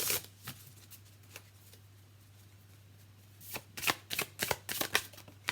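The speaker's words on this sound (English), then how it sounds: "we're going to use the Sacred Creators deck, by Chris Ann, to clarify the judgment call" A Sacred Creators oracle card deck being shuffled close up, with a few soft riffles early, then a quick run of crisp, rapid shuffling bursts toward the end over a low steady hum.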